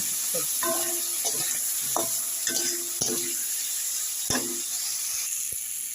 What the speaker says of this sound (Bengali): এখন আমি এই আলুটাকে এইভাবে কষাবো